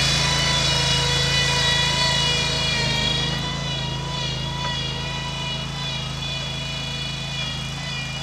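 A 2010 Terramite T5C tractor's engine running at a steady idle, a loud continuous buzzing drone with a strong harmonic whine that holds even throughout.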